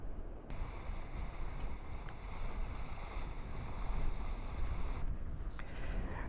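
A wind turbine's blades spin fast close by on a hillside, heard as a heavy, continuous rushing roar of wind buffeting the microphone, swelling slightly midway, with faint ticks scattered through.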